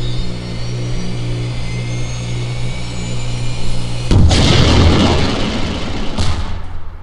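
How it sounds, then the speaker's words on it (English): A rocket launcher fires in Postal 2, a sudden loud blast over a steady engine-like drone, followed by a roaring rush that fades, with a second burst a couple of seconds later. "A rocket launcher too."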